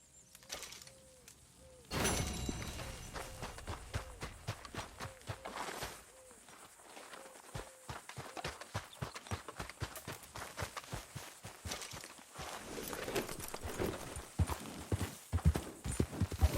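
Horses galloping in Red Dead Redemption 2 make a rapid, continuous drumming of hoofbeats that grows denser and louder toward the end, with a whoosh and a low creak early on.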